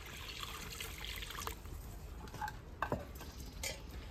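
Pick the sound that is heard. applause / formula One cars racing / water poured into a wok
water poured into a wok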